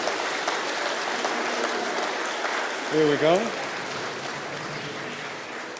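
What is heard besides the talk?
applause for award winner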